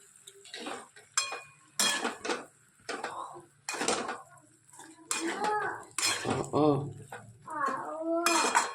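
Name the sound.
mixing boiled potatoes in cooking pan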